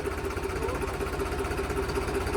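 A heavily loaded, overheating tractor pulling a trolley runs steadily nearby, a constant low rhythmic chugging drone with no pauses.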